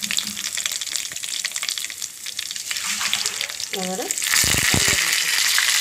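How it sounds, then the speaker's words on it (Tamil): Mustard seeds spluttering in hot oil for tempering garlic chutney, a steady loud sizzle with sharp crackles and pops, briefly under a few spoken words, growing more intense toward the end. "கடுகு பொரியல் பாருங்கள்"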